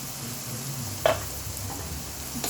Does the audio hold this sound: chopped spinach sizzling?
yes